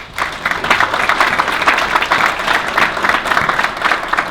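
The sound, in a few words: audience applause at awards event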